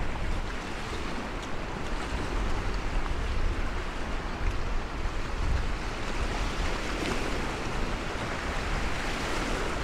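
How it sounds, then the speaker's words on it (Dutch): The sea rises at a pier, with broad, rumbling surf washing in continuously and steady wind buffeting the microphone, loud and close without any voices. "Kijk eens hoe dat de zee opkomt."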